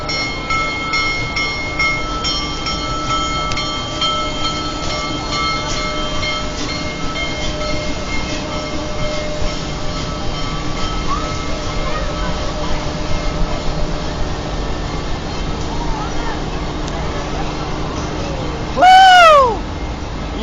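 Union Pacific Big Boy 4014 steam locomotive rolling through Bunkie, Louisiana, a long steady rumble with clanking and ringing tones, ending in a brief loud whistle-like blast near the close.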